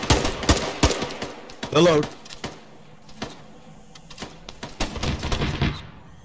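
Video game gunfire comes in rapid automatic bursts and single sharp shots, loud and close, scattered through the clip, with a brief spoken greeting and other voices mixed in.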